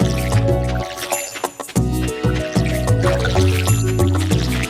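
Crops being watered with a watering can in Stardew Valley: repeated splashing, dripping water sounds over loud, steady game music.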